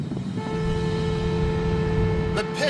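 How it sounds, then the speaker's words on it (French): A car's horn sounds from inside the moving vehicle, a steady sustained tone held for a couple of seconds over road rumble and engine noise. "Je vais klaxonner."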